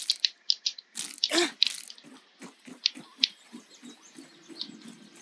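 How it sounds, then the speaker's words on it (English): Drinking dirty water in the survival game Grounded, a run of short wet gulps and splashes in an irregular rhythm, close and fairly quiet. "Let me drink that dirty water."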